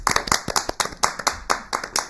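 An audience at a Toastmasters-style speakers' meeting claps in quick, close-up, slightly uneven bursts that continue steadily for a couple of seconds.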